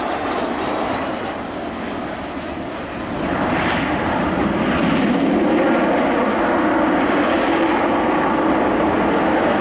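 The Avro Vulcan XH558 jet bomber flies on approach at Yeovilton Air Day 2014: a steady, broad engine roar that swells and grows louder partway through, heard from a distance.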